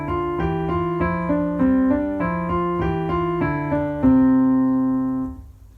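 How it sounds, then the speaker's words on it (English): A piano plays a scale in a two-against-one rhythm, with right-hand quavers over left-hand crotchets in an even, steady pulse. The passage ends on a held note that slowly fades. "our right hand will be playing 2 notes to the time that it takes 1 in the left"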